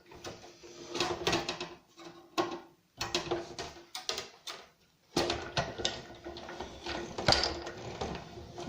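A machine runs over a corrugated cardboard card in short, uneven bursts of clattering mechanical whirring, separated by brief quiet gaps. The sound is close and fairly quiet.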